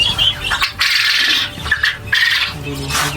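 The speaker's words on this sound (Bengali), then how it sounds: "তো এই দেখুন ভাইয়ের সেই কোয়েল পাখি" Quail on a farm give repeated high chirping calls in short bursts, close and fairly loud, with a mix of farmyard noise and rustling around them.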